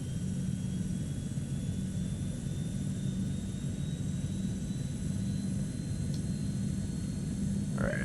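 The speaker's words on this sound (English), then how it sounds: "Alright, that engine's coming up." A propeller aircraft engine starts up and runs in Microsoft Flight Simulator 2024, producing a steady low droning rumble with a faint high whine, heard alone.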